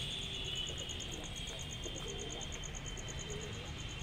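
Favourite Panjabi pigeon at a utensil shop in Indore, cooing softly in short low bursts over a steady background hum and a faint, rapid high-pitched pulsing.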